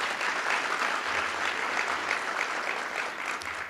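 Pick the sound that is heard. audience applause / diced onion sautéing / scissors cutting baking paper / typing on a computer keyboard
audience applause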